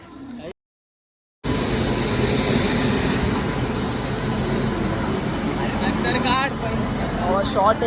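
Loud, steady rumble and rattle of a moving train carriage after a brief silent gap, with people talking nearby over the noise.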